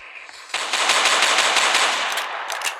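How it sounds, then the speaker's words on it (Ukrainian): Rapid automatic gunfire in a video game rattles in a sustained burst after a brief quiet moment, with sharp crackling shots continuing to the end. "Стріляють! Стріляють!"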